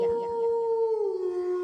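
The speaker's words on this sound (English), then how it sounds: "wolf" A single wolf howl, a clear, sustained tonal cry that holds steady and then slides gently downward, close and alone, lasting under two seconds.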